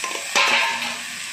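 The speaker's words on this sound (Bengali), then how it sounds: "এবার আমি ডুমুর আর আলুটা কড়াতে দিয়ে দিচ্ছি।" Figs and potatoes drop into hot spiced oil in a wok, setting off a loud, steady sizzle that swells after a brief stirring scrape and then eases slightly, with no talking.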